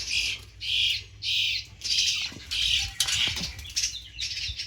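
A bird caught in a workshop scrap bin flaps its wings in quick rhythmic bursts, loud and close, with a few faint scuffs and chirps between beats.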